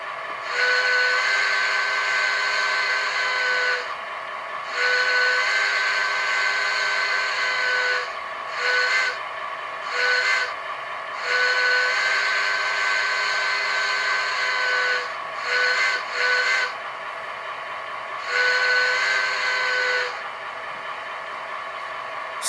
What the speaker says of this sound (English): F2 is the horn or the Hancock whistle.